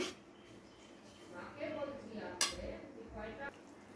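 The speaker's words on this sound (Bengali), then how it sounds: "ভেজে রাখা বেগুনগুলো দিয়ে খুব ভালো করে নাড়াচাড়া করে মিশিয়ে নিচ্ছি।" Fried eggplant being stirred into yogurt in a pan: soft scraping and clinks of a utensil against the pan, with one sharp knock, quiet and close.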